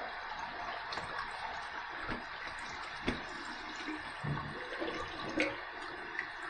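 Cold tap water runs steadily for a shaving rinse, a continuous close hiss and splash without speech.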